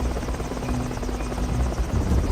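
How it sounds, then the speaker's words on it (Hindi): A cartoon helicopter drones steadily nearby, its rotor chopping in a constant, loud, even pulse with no pauses. "सुरेश हेलीकॉप्टर से ये सब देख रहा होता है।"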